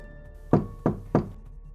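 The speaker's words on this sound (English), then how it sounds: "3 distinct strikes in the wall." Three distinct knocks strike a wall inside a reputedly haunted Swedish house, Frammegården, evenly spaced about a third of a second apart, close and fairly loud over a faint steady hum.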